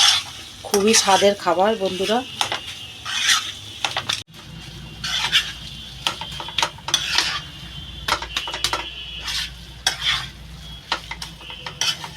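A spoon stirs a banana flower and prawn curry in a frying pan, with repeated scraping strokes against the metal over a steady sizzle. The strokes come in quick clusters and sound close and clear throughout.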